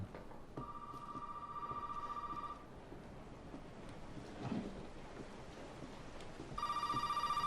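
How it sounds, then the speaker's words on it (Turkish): A telephone rings in the game Resident Evil 7: two bursts of electronic ringing with a pause between them, heard over a low rumbling storm-like ambience with rain. "Telefon mu çalıyor lan?"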